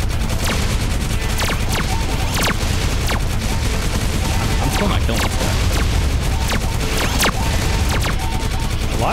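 Constant bullet fire in the space shooter Galaxy Warfighter, a loud unbroken barrage with sharp individual shots cracking through every second or so, dense and close throughout.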